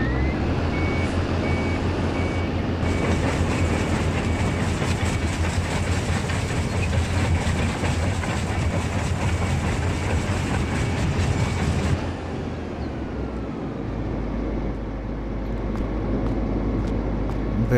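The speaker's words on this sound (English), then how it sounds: "The working sound, it is original from a real crusher." A Terex-Finlay cone crusher running in Farming Simulator 22, using audio recorded from a real crusher: a loud, continuous rumbling grind with rattling and clattering, steady throughout, then dropping to a lower, smoother drone for the last few seconds.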